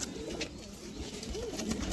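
Bengal Fulsira Madras pigeons coo softly, a couple of short low calls close by against a quiet, steady background.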